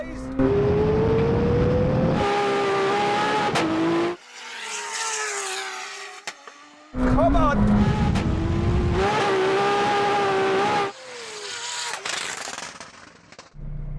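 A McLaren Senna and a 1200 hp Lexus launch off the line in a drag race, engines screaming loud and close through rising gear changes, with sharp pops and crackles, a brief lull, then a second hard surge of revving.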